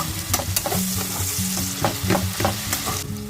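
Onions sizzling in a pan for chicken curry, a bright steady hiss broken by rhythmic scraping and clattering of a spatula stirring, close and fairly loud.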